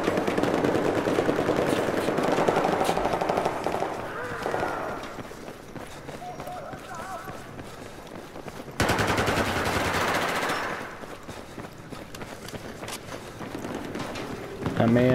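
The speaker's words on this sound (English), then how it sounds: "It's like a big assault rifle." Rapid assault rifle fire in Battlefield 4, bursts of dense automatic shots running through most of the stretch with a louder stretch midway, over game ambience.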